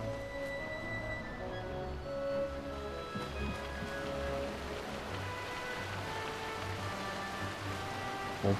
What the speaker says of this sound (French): Bon, pour le moment il pleut mais toujours pas suffisamment.